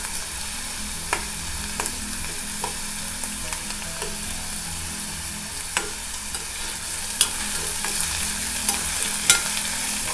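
Chopped onion and crushed garlic cloves fry in hot oil in a pan, a steady hiss with scattered small pops and the occasional scrape of a spoon, close and without speech.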